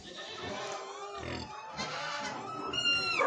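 Pigs grunt and oink on a farm alongside goats, several close snorting calls breaking through a busy livestock din, with faint bleats nearby.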